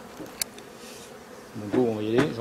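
Honey bees buzz at a thinly populated hive after a swarm has left. A low hum runs throughout, and a louder close buzz swells near the end.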